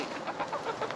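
Several chickens cluck and squawk nearby in quick, overlapping bursts, fairly faint but continuous.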